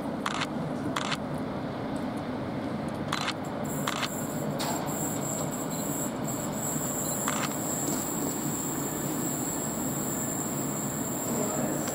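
An Avanti West Coast Class 390 electric passenger train departs Carlisle station, rumbling steadily close by, with rolling wheel noise and a high squeal appearing midway, heard continuously without talk.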